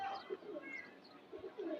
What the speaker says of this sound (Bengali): সুন্দর একটা কবুতর, নর কবুতর, পাঙ্কি কবুতর।